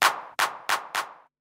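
Four crisp electronic hand clap samples played on an MPC drum pad land in a steady rhythm, bright and snappy with short tails, played alone.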